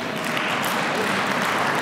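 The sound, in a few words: applause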